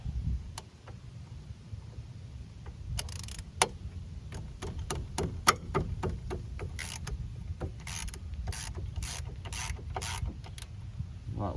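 A ratchet wrench on a 13 mm brake bracket bolt of a 2002 Pontiac Grand Am gives a run of close, sharp clicks, sparse at first and then quickening into rapid ticking over a low background hum.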